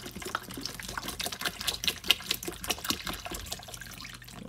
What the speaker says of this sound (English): We wanna keep the water level as high as possible to cover the fruit.